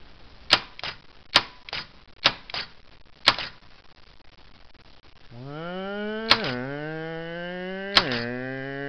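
An electric solenoid gear shifter snaps through a series of sharp, close clicks at irregular intervals, followed by a sustained droning engine-like tone with two more clicks over it.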